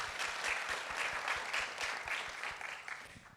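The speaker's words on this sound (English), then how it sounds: "Let's give a round of applause to Senator Creighton." An audience gives a round of applause for Senator Creighton at a parents' rights education event, with sustained, even crowd clapping throughout, heard at a moderate distance and fairly quiet overall.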